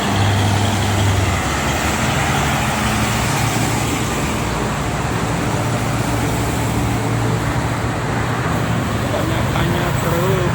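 Trucks and cars rolling through traffic on the Jakarta–Cikampek toll road, a continuous loud roadway roar with low engine drone, heard from inside a vehicle without a break.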